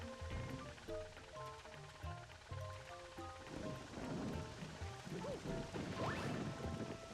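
Rain falling from a rain cloud in the Super Mario Galaxy video game: a steady patter of rain with occasional rumbles, under bright tonal game music.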